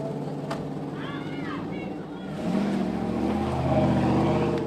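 A hit-and-run driver's car pulls away, its engine rising from a low rumble to a louder, sustained roar partway through, with voices talking nearby.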